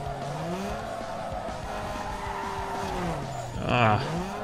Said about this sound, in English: Ah, that drift didn't end well.